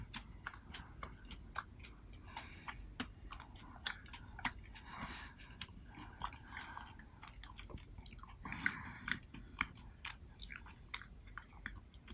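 Close, crunchy chewing of a Hershey's Cookie Layer Crunch bar, a chocolate bar with cookie and cream layers, giving a steady run of crisp bites and crackling grinds with no talk.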